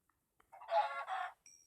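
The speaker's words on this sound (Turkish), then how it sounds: "Tavuk var." Chicken clucking inside a modded survival video game, a short burst of a few close, clear clucks and squawks, followed by a brief higher call, with no talk over it.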